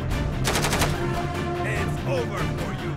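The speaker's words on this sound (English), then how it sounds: "they only shooting at my partner" Video game gunfire in GTA 5 during a prison-life mod: a steady, loud crackle of rapid shots runs throughout, like bursts of automatic fire layered with ambient game noise.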